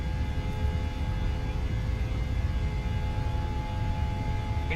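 Airliner engines spooling at takeoff thrust in Microsoft Flight Simulator, a steady loud broadband roar with faint whining tones, unbroken from start to finish.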